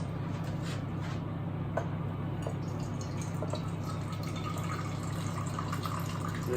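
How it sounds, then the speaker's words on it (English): Cooking juices from jerk chicken being poured into a pot for gravy, giving a soft, continuous trickling and dripping of liquid at close range over a steady low hum, with no voices. "I'm gonna pour some of this out into my pot"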